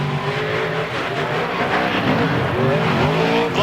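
Dan Runte's Ford race truck roars through a troubled qualifying pass, engine revving and rising in pitch with shifting tones, loud and close, a brief tire squeal toward the end.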